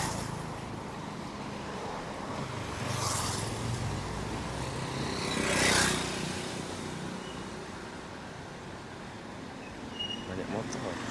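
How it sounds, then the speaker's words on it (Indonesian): Street traffic with many motorcycles and cars hums steadily on a morning street in Kampung Baru, Malaysia, with a couple of vehicles whooshing past closer before the steady background rumble returns. "Banyak motor."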